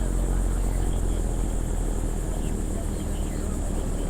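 An Aerolite 103 ultralight aircraft taxiing fast on the ground, its propeller engine giving a loud, constant buzzing drone with heavy wind rumble and no voices.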